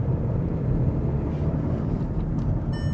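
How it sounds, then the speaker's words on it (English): An abandoned VW Golf's engine drones steadily as the car is driven, a constant low rumble with road and wind noise and no notable changes in pace. "So let's just quickly drive up here, make sure engine sounds good, gears work"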